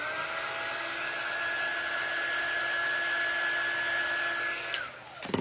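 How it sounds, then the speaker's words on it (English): A hair dryer blows steadily at close range over wet paint on a craft mummy door hanger, a constant whirring hum that cuts off near the end, followed by faint handling noises. "dry that little extra paint that I have there"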